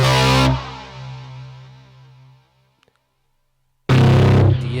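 A Roland SP-808 guitar multi-effect set to metal distortion gives a loud, buzzing distorted tone that rings out and decays into silence, then another harsh distorted burst starts abruptly.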